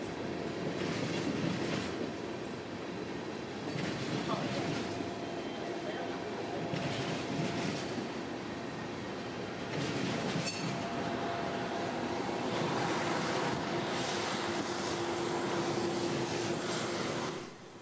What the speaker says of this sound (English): This train has a pusher on it to help it get up Erlanger Hill.